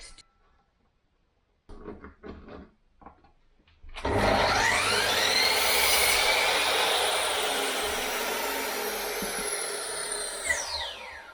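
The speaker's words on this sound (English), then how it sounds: "So I'm going to cut these to size so that I can just go all the way around with them." A power saw cuts wooden bed slats to size. A few quiet knocks come first, then a loud, sustained whining cut begins and runs to the end.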